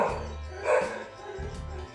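Dogs bark inside a dog hotel, muffled and somewhat distant, with a few yips and barks over low room noise.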